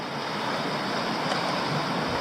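River water flowing steadily outdoors, a continuous broadband rush with no pauses, close and moderately loud, with no voices present.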